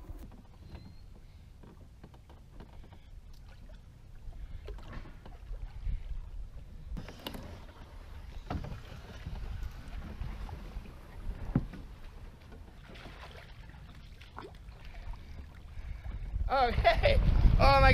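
A canoe is paddled on Island Lake in winter, with soft water swishes and dips under gusty wind noise on the microphone, building to louder splashing near the end.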